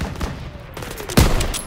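Loud World War 2 gunfire from the Call of Duty WWII campaign, a burst of rapid shots with a heavy blast near the middle, close and dense over a rumbling battle background.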